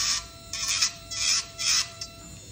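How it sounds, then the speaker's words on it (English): A coarse dental burr trims an impression-compound tray, giving four short, close grinding bursts in an even rhythm over a faint steady whine, with quiet pauses between passes. "So I'm just with a coarse burr, just trim off some of the tray before we do the second part of the impression."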